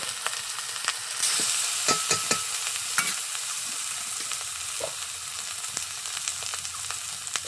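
Snails and pumpkin sauté with salt and turmeric in a pan, giving a steady close sizzle broken by repeated scraping stirs and clinks of the spatula throughout, with no talking.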